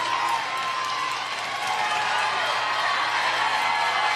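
A baseball crowd at a Little League World Series game cheers and shouts steadily at a distance, a dense wash of voices and whoops with some clapping throughout.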